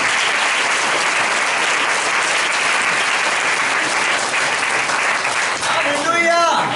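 A church congregation clapping together during a worship service, loud sustained applause filling the room, with a voice rising over it near the end.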